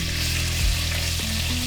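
Sliced onion sizzles steadily in hot oil with curry leaves and chopped ginger while cooking a rohu fish curry, a close, continuous frying hiss with a brief stir knock midway and no voices.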